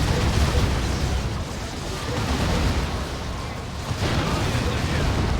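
In a Warhammer 40,000: Dawn of War 2 battle between Imperial Guard and Eldar, a creeping artillery barrage keeps up a steady churning roar of overlapping explosions, dense and continuous, with a commentator talking over it.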